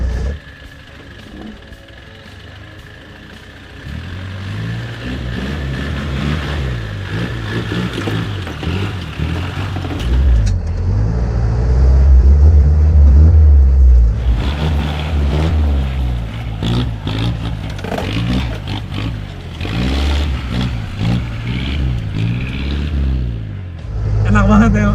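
A Daihatsu Taft diesel off-road vehicle drives through a ditch, its engine rumbling low and then revving harder and louder as it climbs. Some speech is heard inside the cabin.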